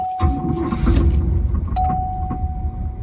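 A 1980 Cadillac Coupe Deville engine cranks and catches, settling into a loud, close, steady rumble with a continuous warning chime tone running over it, with no talk.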